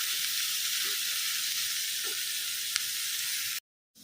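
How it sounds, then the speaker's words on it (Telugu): Onions fry over a high flame in a pan, giving a steady, close sizzling hiss that runs evenly before cutting off abruptly near the end, with no voices. "హై ఫ్లేమ్లో మనకి ఆనియన్స్ సాఫ్ట్ అయ్యేంత వరకు ఫ్రై చేసేసుకున్నాము"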